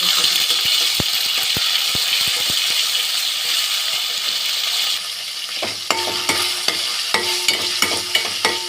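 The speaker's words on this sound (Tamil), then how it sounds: "இப்போது இது பொரிஞ்சதும் இதில் இஞ்சி பூண்டு விழுதை நாம் சேர்த்துக்கலாம்" Whole spices and ginger garlic paste fry in a pan, a steady loud sizzle for the first half, then a lower crackle broken by sharp clicks and scrapes of a spoon against the pan.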